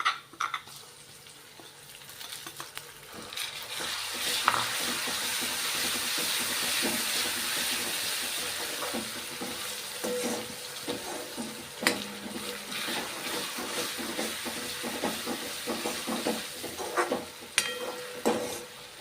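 Tomatoes frying with golden brown onions in a pan while a green pigeon pea curry is prepared, with a loud continuous sizzle and steam hiss under scattered stirring and utensil clicks.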